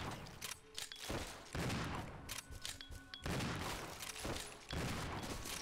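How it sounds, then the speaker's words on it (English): Shotgun blasts in the Resident Evil 0 video game, heavy booming shots repeating every second or so with dense rumbling tails, loud and close with no voice over them. "Just shoot him right away. Two shotgun shots to the..."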